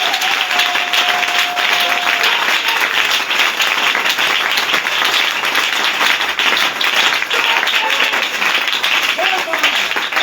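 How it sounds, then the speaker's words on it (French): A church congregation applauds loudly and continuously, dense clapping filling the room with crowd noise and voices mixed in. "Est-ce qu'on peut acclamer très fort le Seigneur?"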